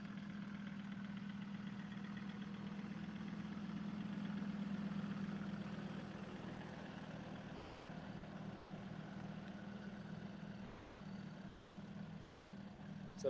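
Engines of race cars waiting at a start line idle in a low, steady hum, distant and faint, with a few soft thumps and brief dips near the end.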